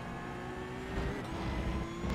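Porsche Cup race car in iRacing at Hockenheim, its engine droning steadily and pushed hard, with a slight rise in revs partway through; loud and close, no talk.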